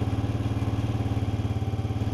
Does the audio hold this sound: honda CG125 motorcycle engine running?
yes